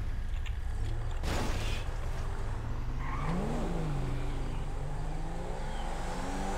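A car driving in the video game GTA 5, its mid-pitched engine humming and revving up and down with a sharp mechanical clunk, heard close and alone.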